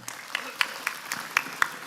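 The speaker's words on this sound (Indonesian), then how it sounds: "Tepuk tangan buat panjenengan semua" Audience clapping at a religious gathering in Brebes, a faint, steady run of evenly spaced claps at about four per second with no talk over it.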